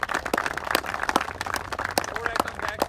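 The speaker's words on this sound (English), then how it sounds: "so round of applause for them" A crowd at a cricket club ceremony gives the Vulcans team a round of applause, a stream of sharp, scattered hand claps at moderate distance, mixed with background voices.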